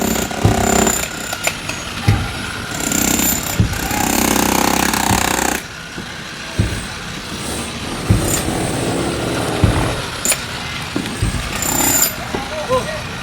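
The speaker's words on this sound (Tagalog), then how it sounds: "Kasi busy na po sila sa pagbakbak sa taas." Workers chip and demolish concrete overhead with a jackhammer, loud rattling bursts that start and stop among engine noise, while people talk over the din.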